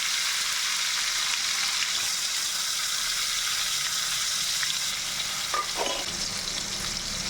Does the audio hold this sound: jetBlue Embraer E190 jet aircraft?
no